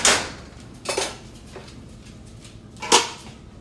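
Vegetables shifted around in a sauté pan on the stove, giving a few separate scraping, clattering knocks about a second or two apart, close by with quiet gaps between them.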